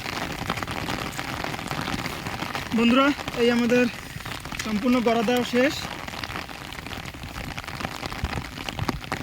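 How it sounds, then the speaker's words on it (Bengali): Heavy rain falls steadily on open ground beside a tidal river in the Sundarbans, a constant hiss throughout, while someone talks over it partway through. "প্রচুর পরিমাণে বৃষ্টি।"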